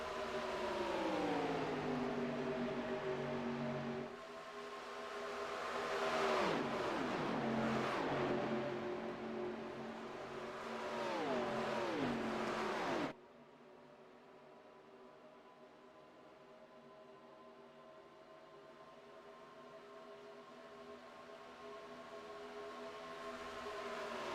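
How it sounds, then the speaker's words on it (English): A Next Gen stock car, number 44, at Talladega rolls onto pit road, its engine droning loud and steady with several rising and falling revs, then drops to a quieter, even idle as it slows toward the stall. "Chris Mefford pulling back onto pit road, that 44 machine"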